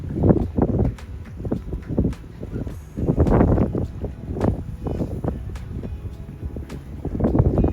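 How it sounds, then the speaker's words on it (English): Gusty wind blows across Lake Louise in the Canadian Rockies. It makes a steady, low buffeting rumble with repeated surges, close to the microphone, and no one speaks. "The wind is, we were sheltered from it before, but it's back up again now"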